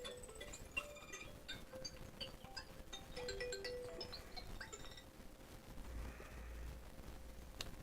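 A phone ringtone chimes in a series of bright, repeating electronic tones at moderate volume over a low background hum, interrupting a live reading before dropping away near the end.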